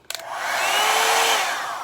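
A Revlon One Step hair dryer brush running: after a brief click it blows with a steady, close, loud whooshing roar, with a faint high motor whine throughout.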